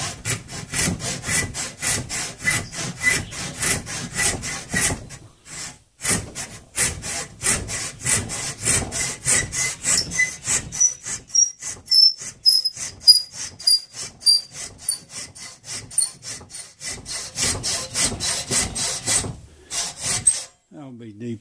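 A hand saw cuts a slot into a wooden hoe handle with rhythmic, rasping back-and-forth strokes heard up close, pausing briefly a couple of times before resuming.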